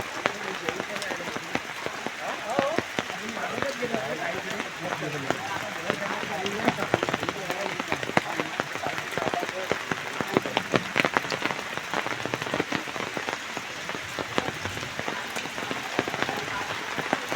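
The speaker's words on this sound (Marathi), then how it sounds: "पावसात घरात जायपर्यंत एवढा पाऊस" Heavy rain pours steadily onto surfaces, a dense and continuous hiss with scattered sharper drops, while voices speak faintly underneath.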